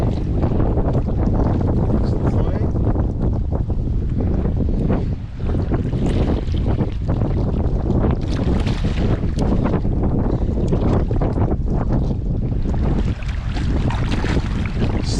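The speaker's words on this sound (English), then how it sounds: "I really hope this wind goes away." Strong wind at sea during kayak fishing batters the microphone in loud, continuous gusty roaring, with water sloshing underneath and a brief lull midway.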